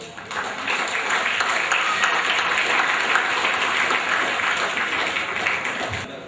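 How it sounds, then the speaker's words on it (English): Sustained applause from a dinner and fellowship evening audience after song and dance performances by guests from Singapore, a dense, steady clapping crowd lasting throughout and tapering at the end. "We should give them a round of applause."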